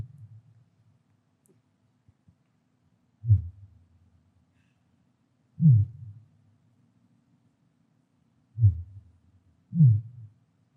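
Underwater fin whale calls sped up five times, heard as a slow series of short, deep thumping pulses at irregular spacing over near-silence, like a heartbeat.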